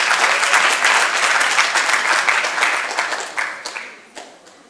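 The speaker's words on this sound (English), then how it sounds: "Double applause." Audience at a scientific poster flash session claps steadily after a presentation, a full round of applause that gradually thins into a few scattered, separate claps as it dies away.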